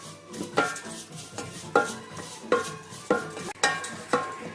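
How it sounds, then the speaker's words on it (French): Vermicelli being stirred as it toasts in a pan for chicken curry, giving a series of clinking utensil scrapes against the pan at an uneven rhythm, close and moderately loud with no voices. "Il faut bien touiller parce qu'il ne faut pas que la vermicelle brûle"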